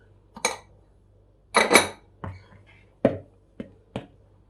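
Cornmeal batter for Black Sea–style corn bread, with salt just added, is mixed by hand in a bowl. Separate bursts of scraping and clinking come up close, each followed by a short pause.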